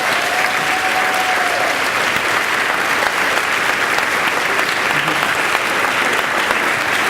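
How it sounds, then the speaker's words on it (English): A large audience at a spring honors convocation gives sustained, even applause that fills the hall without a break, with faint voices beneath it. "We applaud them, so will you applaud them too?"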